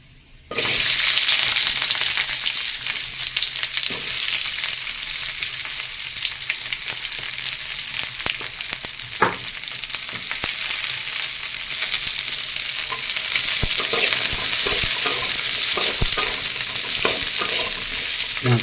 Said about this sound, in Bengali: পেঁয়াজ কটাকে জাস্ট হালকা করে ভেজে নেবো যাতে পেঁয়াজের কাঁচা গন্ধটা চলে যায়।